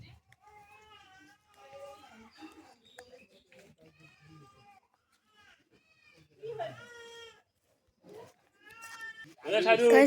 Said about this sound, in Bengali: ওখানে একটা ছাগল আছে ওই যে ছাগলটা ওখানে আছে